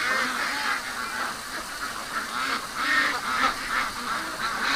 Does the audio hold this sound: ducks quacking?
yes